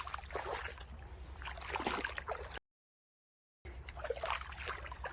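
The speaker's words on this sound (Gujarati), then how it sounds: "જો આ ઊભો ધોરિયો છે ઊભો ધોરિયામાં પાણી આવી ગયું" Water flowing into a farm irrigation channel, a faint steady trickling and gurgling rush heard outdoors, broken by a second of dead silence partway through.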